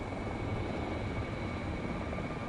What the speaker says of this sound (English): I swear I hear a helicopter